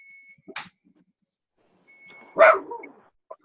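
A dog lets out two short barks, the first brief and the second louder and fuller, separated by quiet, with a faint steady tone in the background.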